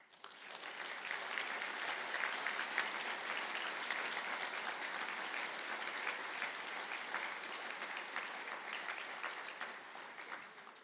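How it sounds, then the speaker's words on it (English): Sustained applause from a large audience for engineering graduates at a university conferring ceremony in a hall, steady and fairly distant, holding level for about ten seconds before tapering off. "to please stand up for a round of applause."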